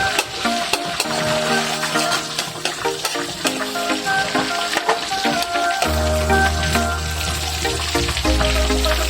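Onions sizzle and fry in a hot pan while being stirred, a loud continuous crackling hiss with frequent clinks and scrapes of the utensil against the pan, plus a low steady hum joining partway through.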